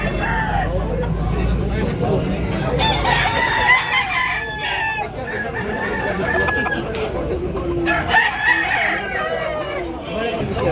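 Rooster crowing, with several drawn-out crows repeating over a steady background of chatter and crowd babble, close and fairly loud throughout.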